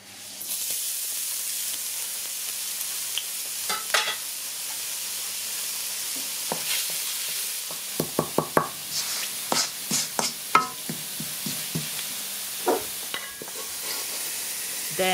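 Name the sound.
garlic frying in oil in a wok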